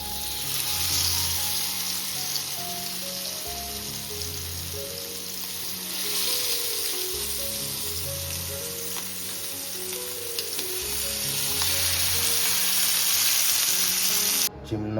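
Roe-stuffed fish frying in hot oil in a pan, a steady crackling sizzle that swells and eases in waves across the whole stretch, close and moderately loud with no talking.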